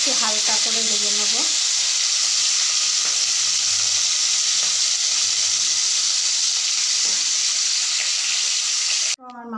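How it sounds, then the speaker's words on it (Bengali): Fish sizzle loudly in hot oil in a wok, a steady bright crackling hiss that holds throughout with a brief voice at the start. "একটু হালকা করে ভেজে নেব।"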